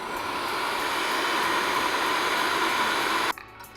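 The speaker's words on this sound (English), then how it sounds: "we're going to use a hairdryer to set it into place" A hair dryer blows steadily and loudly to set a hairsprayed ponytail in place, a continuous broadband rushing whir that holds level for over three seconds before abruptly cutting off.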